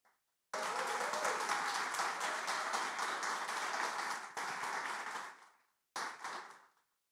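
Audience applause at an English-language talk, a dense burst of clapping lasting several seconds, then fading, with a brief second flurry after a short pause.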